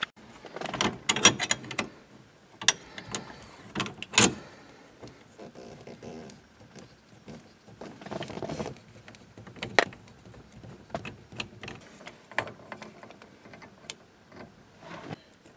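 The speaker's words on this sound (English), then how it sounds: "I'm just working this ring off with a couple screwdrivers." Two screwdrivers pry a snap ring off the ignition lock cylinder of a 1973 Pontiac Firebird. Close metallic clicks, scrapes and sharp snaps come in irregular bursts, with quieter fumbling handling noise between them.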